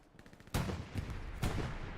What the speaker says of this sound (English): With some cannon fire